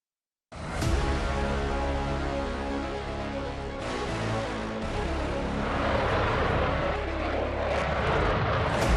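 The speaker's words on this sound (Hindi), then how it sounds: "ये रफेल फाइटर जेट की विध्वंसक शक्ति है" Loud, continuous roar of a Rafale fighter jet flying, a steady broadband jet engine noise that runs unbroken for the whole span and swells slightly toward the end.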